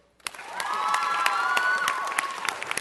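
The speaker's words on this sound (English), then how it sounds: "I want us to give her a big welcoming and a round of applause to Amanda Nunes." A city council meeting audience gives a warm round of applause to welcome a guest, with steady clapping mixed with crowd cheering and a few whoops, rising quickly and holding throughout.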